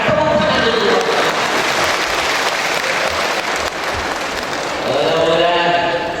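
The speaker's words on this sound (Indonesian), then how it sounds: "Tepuk tangan dulu." A crowd at a PGRI Banyuasin Halal Bi Halal event breaks into sustained applause, dense and steady for about six seconds, dipping briefly midway before swelling again.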